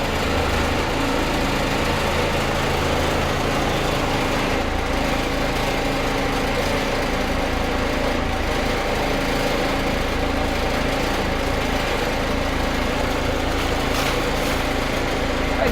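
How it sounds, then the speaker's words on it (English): A 1965 Gillig school bus converted into an RV idles on its diesel engine, a steady, loud, close rumble with an even mechanical chatter that holds unchanged throughout, with no talking over it. "We're already passing 50 PSI and it's just at idle."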